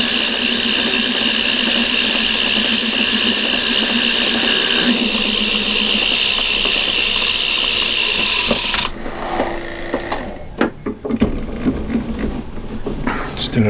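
A milling machine runs steadily on its new power feed at about 440 rpm, a loud continuous whine and hum that cuts out partway, leaving scattered clunks and light handling noises.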